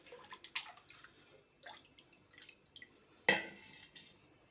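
Bone broth, simmered for hours, dripping and trickling as liquid is ladled off, with scattered soft drips and one sharper splash near the end, close and fairly quiet.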